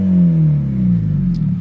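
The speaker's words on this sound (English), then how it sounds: "let me rev it up for you. Just hopefully you guys can hear the sound of the exhaust." A 9th-generation Honda Civic Si exhaust revs up loud and close, a deep droning engine note that climbs and then holds steady, with no talking over it.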